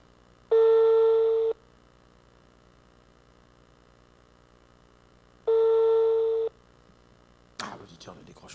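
A telephone line rings unanswered: two long electronic ring tones sound about five seconds apart, clear and steady over faint line hum. A voice begins speaking just after the second ring.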